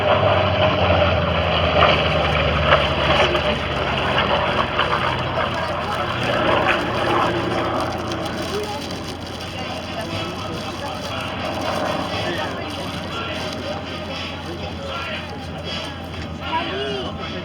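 A single aerobatic airplane's engine drones steadily and fairly loudly through the whole stretch at a world aerobatics championship air show in Châteauroux, slowly fading a little, with someone talking over it.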